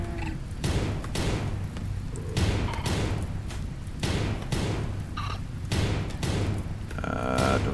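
Colonists trade gunfire in RimWorld, a run of sharp shots and heavy thuds coming in uneven bursts, some booming louder than others, with no voices over them.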